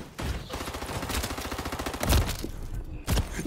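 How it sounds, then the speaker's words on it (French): Rapid automatic gunfire in the shooter game Call of Duty: Modern Warfare 3, a close, loud burst of evenly spaced shots followed by a few heavier single blasts. "Qui c'est qui me tire dessus là?"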